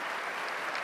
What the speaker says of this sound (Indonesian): Kita beri tepuk tangan untuk beliau